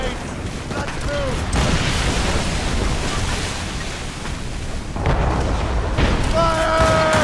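Ship cannons booming during a naval battle in Assassin's Creed Rogue, heavy rumbling blasts mixed with ocean surf and wind, with shouted voices over the din.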